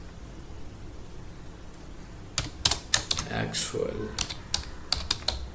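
Fingers tap a computer keyboard while code is written for a Java Selenium WebDriver tutorial, producing quick bursts of crisp keystroke clicks in the second half, with someone speaking over the typing.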